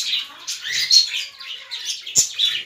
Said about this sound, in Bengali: তো চলো এবার আমি আমার ককটেল পাখিকে জল দেবো।